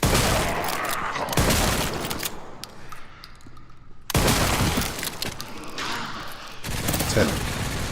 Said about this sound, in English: Let's try out my new shotgun, shall I?